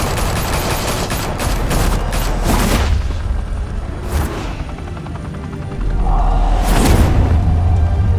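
Heavy gunfire erupts in Batman: The Telltale Series, with loud rapid automatic bursts and booming impacts clustered early, a brief lull, then another thunderous volley with a low rumbling roar beneath.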